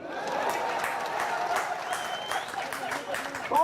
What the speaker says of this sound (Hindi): तो ठोको ताली।